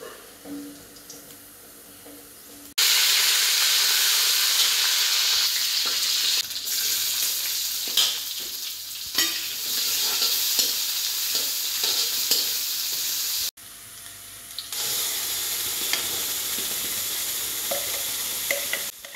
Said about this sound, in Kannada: 2-3 ಎಸಳು ಬೆಳ್ಳುಳ್ಳಿಯನ್ನು ಚೆಂದ ಜಜ್ಜಿ ಆ ಒಗ್ಗರಣೆಗೆ ಹಾಕಬೇಕು